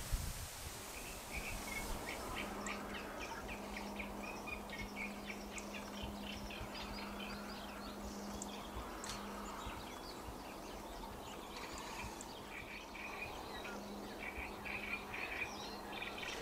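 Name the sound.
birds calling at dawn in Camargue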